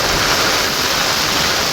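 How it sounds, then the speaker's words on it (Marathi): Heavy monsoon rain pours down in a dense, loud, unbroken hiss, close and constant with no voices. "समजतंय किती पाऊस आहे तुम्हाला ह्याच्यावरनं."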